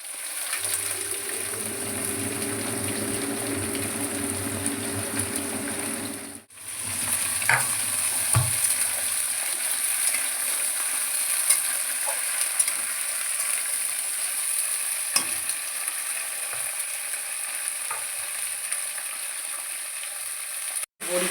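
Tough spinach stalks fry in a pan with a continuous bright sizzle, interrupted by a few stirring scrapes and a brief dip midway, then a sharp clatter near the end.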